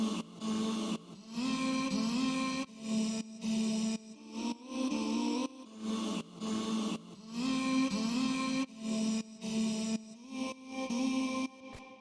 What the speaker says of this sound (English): The next thing we have here is this vocal chop,